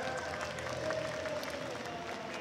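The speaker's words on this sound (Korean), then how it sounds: "수고하신 나머지 선수들에게 여러분 다시 한번 박수 부탁드리겠습니다" Steady applause and crowd noise fill a large esports event hall at the final of a Dungeon & Fighter game tournament, a dense, continuous wash of clapping at moderate level for a few seconds.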